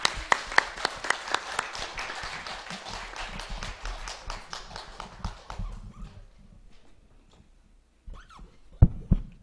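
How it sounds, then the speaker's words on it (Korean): An audience claps to welcome a speaker at a Won Buddhist volunteer association's 40th-anniversary academic conference. The applause is dense and steady, then fades out after about six seconds, leaving near-quiet with a few scattered sounds. "박수로 환영해 주시기 바랍니다."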